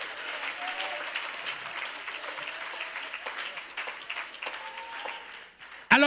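Audience applause at a church conference, a dense steady wash of clapping lasting several seconds before fading, ending with a brief loud burst.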